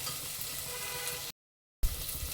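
Red chili powder and masala sizzling steadily in hot oil for a mutton curry, a dense close frying hiss that cuts out briefly and then resumes just as loud.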